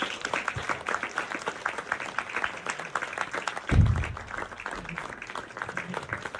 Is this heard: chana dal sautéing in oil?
no